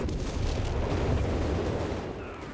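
Artillery bombardment in Company of Heroes 3, a steady roar of heavy booms and rumbling explosions that keeps going throughout, loud and close, with no voices on top.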